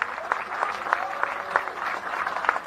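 At a political rally in Gyumri, a crowd applauds with steady, moderately distant clapping, including regular louder rhythmic bursts, while a voice speaks faintly over it.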